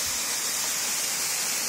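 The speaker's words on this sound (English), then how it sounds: "So we here, the waterfall." Bulolo waterfall near Port St Johns, South Africa, a constant loud hiss of falling water filling the air evenly with no pauses and no voices.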